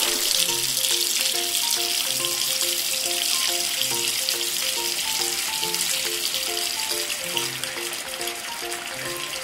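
Water splashes and trickles continuously while toy cars are washed in a children's water play set, with a bright hiss and a repeating tinkly melody from the toy playing over it.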